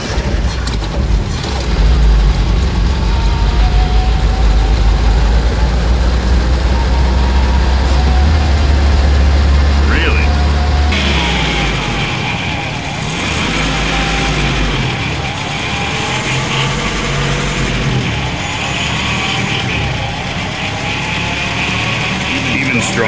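A 1984 Datsun 4x4 engine idles after a stronger throttle return spring is fitted, a steady low rumble that is heavier at first and then settles, with a voice talking over it for much of the time.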